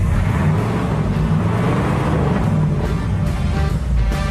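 Low, rich rumble of a Cadillac 331 cubic inch V8 in the gold-trimmed Le Mans concept car from the 1950s, a steady loud idle filling the clip with no talk.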